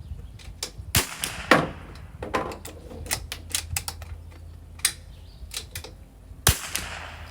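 A CZ 457 rifle fires at a target in a series of sharp, cracking shots spaced irregularly, with a few louder reports standing out from quieter clicks.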